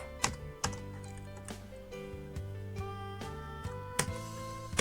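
Keys clacking on a computer keyboard during accounting software entry, a handful of distinct, spaced keystrokes with one firmer press, close by and over soft background music.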